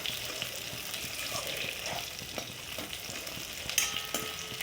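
Peanuts and onions sizzle in hot oil while a utensil stirs them, making steady frying hiss over soft scraping and clicking strokes. A brighter clink comes near the end, and no one speaks.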